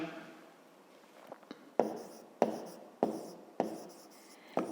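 Math notes written by hand on paper, close by: a series of scratchy strokes in a steady rhythm, each marked by a sharp start and a short scrape. No talking.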